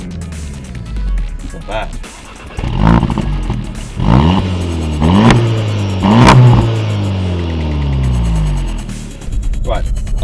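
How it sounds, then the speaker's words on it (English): A SEAT Leon Cupra 300 engine fires up and revs hard several times, its rising and falling roar loud and close inside the cabin, with someone talking briefly in between. "in the Leon Cupra 300, let's start it up, shall we?"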